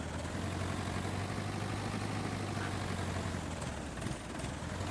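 Steady, low idling rumble of a tractor engine in Farming Simulator 22, a constant drone without pauses.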